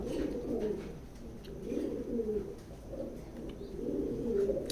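Racing pigeons coo in a loft, repeated soft throaty rolling calls from a few birds close by, rising and falling in phrases with brief gaps.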